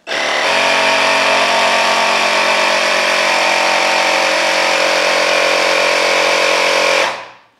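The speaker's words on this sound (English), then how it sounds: "We'll power on the pump. And we will set it to 46 PSI. And we're gonna pump it up." An electric tire pump runs steadily for about seven seconds, inflating an electric scooter tire to 46 PSI with a loud, continuous motor whine and buzz that cuts off abruptly at the end.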